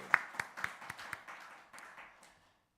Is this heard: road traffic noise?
no